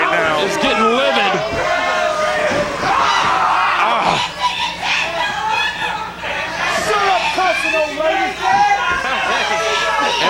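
A wrestling crowd in the Sportatorium roars angrily, with loud overlapping shouts, jeers and screams swelling in waves throughout.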